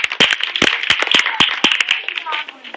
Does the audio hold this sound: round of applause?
yes